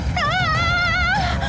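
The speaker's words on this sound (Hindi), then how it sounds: "कुत्ता।" A dog whimpers and whines in a rising, wavering high cry lasting over a second, heard close over a constant low background rumble.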